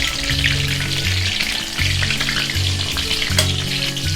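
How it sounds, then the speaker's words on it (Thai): Steady, loud sizzling of Thai dessert batter frying in oil in a pan, a continuous bright crackle with a low hum underneath and no voices. "เดี๋ยวพอเขาเริ่มสุกเนี่ยเขาก็จะฉาดฉาแบบนี้ค่ะ"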